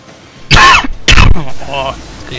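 A coughing fit during a Wii U Darksiders 2 play session: two loud, harsh coughs in quick succession, then a softer throaty trailing sound, close to the microphone.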